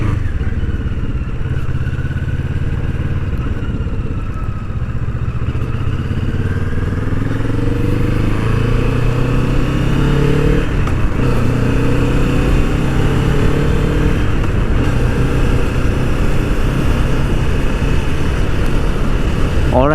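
Kawasaki Vulcan S motorcycle on a test ride fitted with a cafe racer style windscreen: a steady, loud engine drone with shifting pitch as it accelerates, mixed with heavy wind rush throughout.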